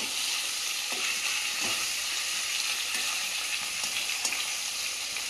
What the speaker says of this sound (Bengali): মাছগুলো ভাজা হয়ে গেছে, তুলে নেব। একদম লাল লাল করে ভেজে নিয়েছি।